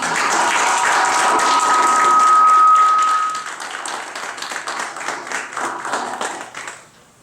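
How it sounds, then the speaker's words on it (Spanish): An audience welcomes a speaker at a talk with sustained applause, dense clapping that peaks early, briefly rings with a feedback tone, then thins to scattered claps before fading out. "Un aplauso para él."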